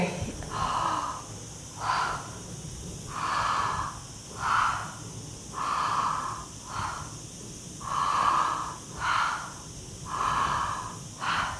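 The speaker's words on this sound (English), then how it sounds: "It's nice big inhale, breathing into your lower belly, and exhale." Deep connected breathing during a transformational breathwork session: big belly inhales flowing straight into exhales with no pause, about seven slow audible cycles in a steady rhythm, close and moderately loud, with no talking.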